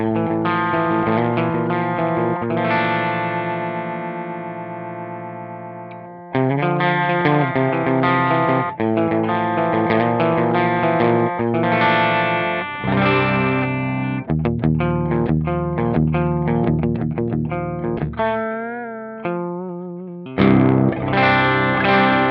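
Electric guitar played with a clean tone through a Joyo Orange Juice amp-in-a-box pedal, ringing sustained chords and picked phrases with sparkle and decay, alone and fairly loud throughout.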